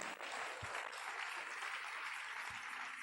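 A church congregation at an Easter Sunday service applauds in a steady, even wash of clapping that holds for the whole moment, moderately distant, with a couple of low thumps.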